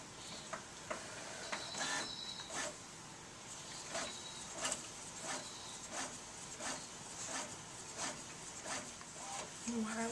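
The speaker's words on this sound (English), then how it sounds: "let's let it print" A Cricut Imagine machine printing gives faint, rhythmic mechanical clicks and short swishes repeating about every half second, set against a low room hiss, quiet and fairly close.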